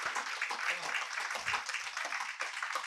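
A hall audience at a World Book Day literary gathering claps steadily and fairly loudly throughout, a dense sustained round of applause honouring two speakers.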